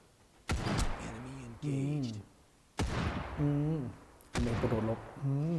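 Sniper rifle shots ring out in the video game Final Fantasy VII The First Soldier, three sharp, loud cracks spaced a couple of seconds apart, with someone talking between them.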